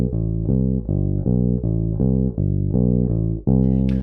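Bass guitar plays the first four notes of a scale exercise as a steady, even run of deep plucked notes, repeated in a regular rhythm, close and loud with no talking.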